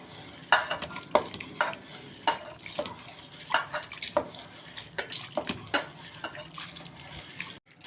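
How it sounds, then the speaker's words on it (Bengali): Red masoor lentils are swished and rinsed by hand in a vessel of water, with repeated close splashing, swirling and occasional clinks of the pot in an irregular rhythm, no talking. "এই যে ডালটা আমি ধুয়ে নেবো ভালো করে, 3-4 বার ধুয়ে নেবো"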